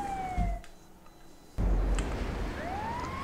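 An ambulance siren wails in GTA 5, its rising and falling tone sweeping past at moderate volume, cutting out briefly before returning along with a heavy thump and traffic rumble.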